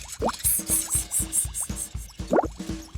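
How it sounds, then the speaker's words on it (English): Cartoon water splashes in quick succession, a steady run of bright, wet plops and drips, close and clear with no voices. "Splish! Splosh!"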